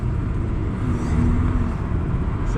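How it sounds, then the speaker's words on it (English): A BMW 220i Gran Coupe's turbocharged engine hums and rises steadily from inside the cabin, with a thin spooling whine building over the low road rumble. "You've got nice turbo spool as well."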